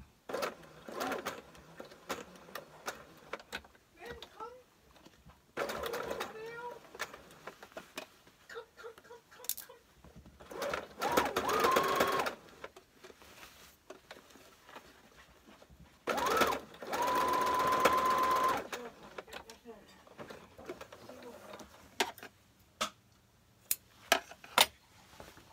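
A sewing machine stitches a shirt in several loud bursts of rapid whirring separated by quiet pauses and handling sounds.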